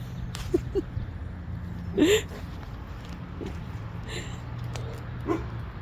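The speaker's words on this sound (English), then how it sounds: "that's Kato, the neighbor pup." A dog makes a few short whimpers and yips against a low mechanical hum, with a soft voice briefly in between.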